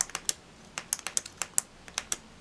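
Retractable nib mechanism of a Jinhao 10 capless fountain pen, giving a quick series of faint, crisp clicks close up, each one short and sharp in an uneven rhythm with no talk.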